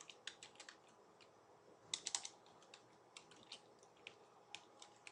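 Rapid typing on a computer keyboard while entering a letter's address, a steady patter of light clicks with a short burst of louder keystrokes near the middle, close and alone.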